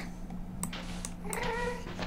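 A cat meows in the Minecraft video game, a couple of short game-sound calls heard close over a steady low background hum.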